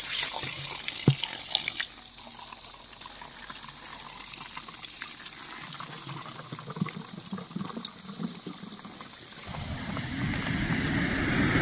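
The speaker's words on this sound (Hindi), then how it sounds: "पेड़ों की जड़ से ये पानी आता हुआ। तो इसको हम बोतल में भर लेते हैं अपनी, दोनों बोतलों में।" Spring water trickling from tree roots in a forest while it fills bottles, close and faint, with a steady gurgling stream that grows fuller and louder near the end.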